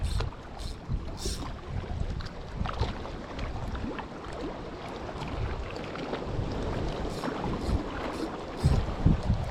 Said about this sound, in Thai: แต่ลมก็แรงเช่นกัน